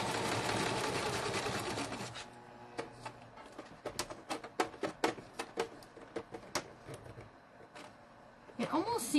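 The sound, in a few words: sewing machine stitching a bee junk journal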